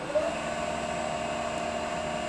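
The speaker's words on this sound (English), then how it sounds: "So we start the spindle. In this case, I'm going to say spindle speed 1000 by S 1000, enter." A CNC lathe with a GSK928TD-L controller runs its spindle at 1000 rpm, producing a steady, faint mechanical whine and hum with a constant tone throughout.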